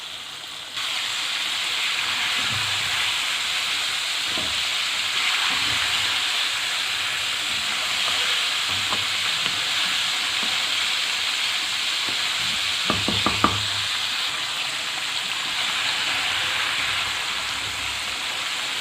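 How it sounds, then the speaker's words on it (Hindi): Chicken pieces frying in oil over low heat, a steady soft sizzle and hiss throughout with occasional quiet stirring clinks and a few brief scrapes near the end, no talking. "बोटियां मैंने ऑयल के अंदर डाल दी हैं और अब इसको हम हल्की आंच पे फ्राई करेंगे"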